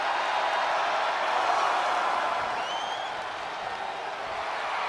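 Arena crowd in WWE 2K24 roaring in a broad, steady wash of cheering and applause that hangs in the background at an even level throughout.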